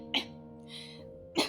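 A person coughs hard after choking on a sweet, two sharp bursts about a second apart with a softer breath or throat sound between them, close and fairly loud.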